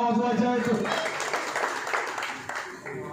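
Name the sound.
applause at the ribbon-cutting inauguration ceremony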